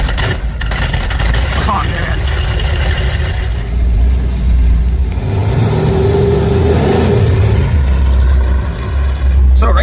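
A 1970 Dodge Challenger muscle car rumbles loud and close with a deep, continuous engine roar and surges of revving, while someone speaks briefly over the noise.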